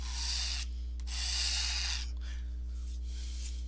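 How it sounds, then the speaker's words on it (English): Glycerin being scraped off a natural enclosure, a close hissing rasp in several strokes over a steady low hum. "That's why I'm just scraping away the glycerin."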